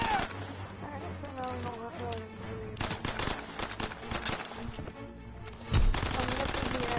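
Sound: gunfire in Call of Duty WW2 video game

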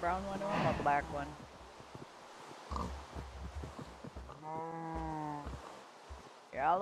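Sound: sheep bleating in the video game Minecraft

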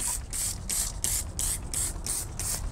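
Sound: foam sprayer spraying cleaner

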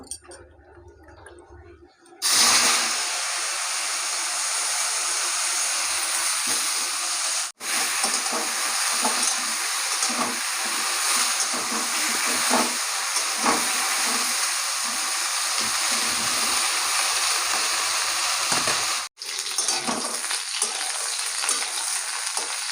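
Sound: cauliflower frying in oil

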